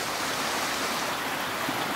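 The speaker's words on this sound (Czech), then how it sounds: "Je tady celoroční stálý průtok vody." The Huntava stream flowing near the Rešov waterfalls, a steady, dense rush of water heard close and continuous, with no talking or breaks.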